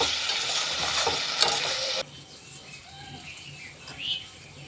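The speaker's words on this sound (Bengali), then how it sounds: "মশলাটাকে ভালো করে কষিয়ে নেব।" Spice paste stir-fried in a pan gives a loud sizzle with spatula scraping for about two seconds, then drops to a quiet simmer with faint rustles.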